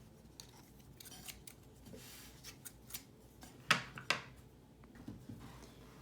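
Scissors snip through fabric being cut for a homemade face mask, a pair of sharp, close cuts standing out among faint, quieter handling sounds.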